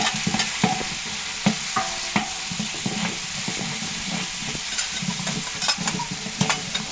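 Khichuri cooks in a pot after ginger is added, a steady sizzle under repeated scraping and clinking of a spoon stirring against the pot, close and fairly loud.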